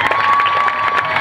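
Audience at a New York City fashion week runway show applauds and cheers to welcome a designer, steady dense clapping close by with no pauses.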